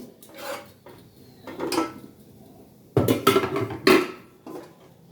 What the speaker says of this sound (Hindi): तो ये मैंने बड़ी वाली 5 किलो की कढ़ाई निकाल ली है।